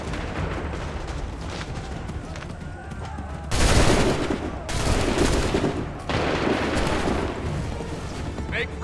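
Musket volleys crash out in the video game Assassin's Creed III, a dense rolling fusillade that comes in several loud bursts over continuous battle noise, with shouted commands faintly mixed in.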